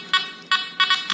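A Nokta Makro metal detector gives a target tone as a series of short bright beeps, the last few coming in quicker succession. The beeps are close and clear over a low background hiss, and no one speaks.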